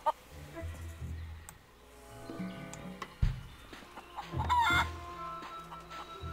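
A chicken in The Curse of Monkey Island clucks in short bursts and louder squawks, with sharp peaks and busy flutter near the end, set against other game sounds and no talk.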